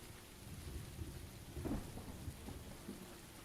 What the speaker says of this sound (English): This rain is so loud.